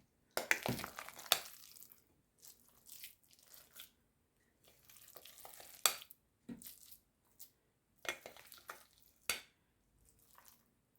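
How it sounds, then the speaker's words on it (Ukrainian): A thick pumpkin and apple casserole mixture with cheese and eggs being stirred in a bowl, heard as intermittent wet squishing and crunchy scraping bursts separated by quiet pauses, close and fairly soft. "гарненько все перемішую"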